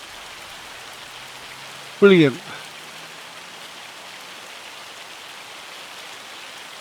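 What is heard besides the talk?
hail falling in Farming Simulator video game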